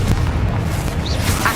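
A Confringo fire spell goes off in the Hogwarts Legacy video game, giving a loud, sustained booming blast with rumbling low end that runs through the whole short moment, with no talk over it.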